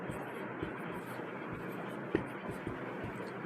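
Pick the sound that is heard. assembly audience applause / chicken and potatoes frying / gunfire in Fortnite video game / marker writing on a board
marker writing on a board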